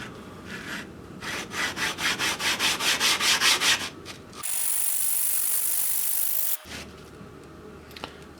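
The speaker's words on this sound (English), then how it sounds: "So now I have my 1000 grit stone here. I can go ahead and take this, take it to the flattening stone." A wet 1000 grit whetstone rubbed back and forth on a flattening stone, a run of about a dozen rhythmic gritty strokes at close range, then a steady hiss and a few softer scrapes.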